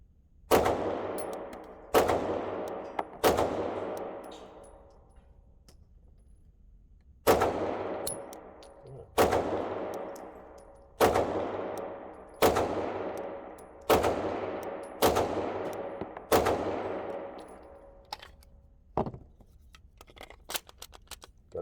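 Archon Type B pistol fires roughly a dozen sharp, loud rounds outdoors, some in quick pairs and others spaced a second or two apart, each crack ringing out with a decaying echo.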